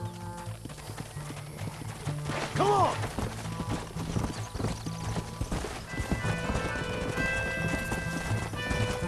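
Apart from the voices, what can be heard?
horses galloping in a video game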